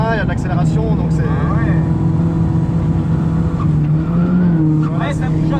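Ford Fiesta ST on a race track, engine droning loud and steady as it brakes and accelerates, with rising and falling revs, while people talk over it inside the car.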